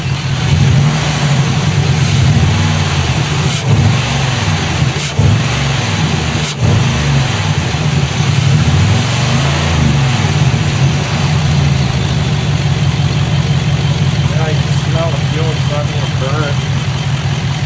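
A 2006 Chevrolet Impala SS with an LS4 V8, running rough with sensor faults, idles steadily and loud throughout, with several rev swells in the first half, and people talk over it.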